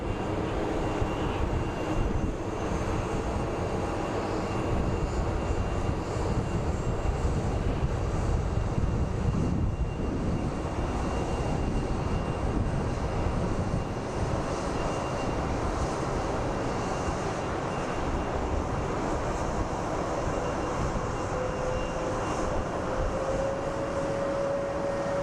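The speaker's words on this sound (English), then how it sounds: "And here comes our Allegiant flight." An Allegiant airliner, inbound from Knoxville, lands at Phoenix Sky Harbor, its broad steady engine roar filling the whole stretch at moderate loudness, with a faint rising whine near the end.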